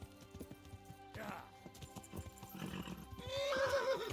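A horse in the Kingdom Come: Deliverance video game, with steady hoof clip-clops and a loud whinny near the end, under quiet game ambience.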